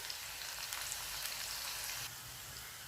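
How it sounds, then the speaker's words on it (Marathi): Hot spiced tempering hits a cucumber salad with a steady, bright sizzle and hiss that holds evenly for a few seconds, then eases slightly near the end. "आता आपण ही फोडणी आपल्या कोशिंबिरीवर घालून घेणार आहोत लगेच"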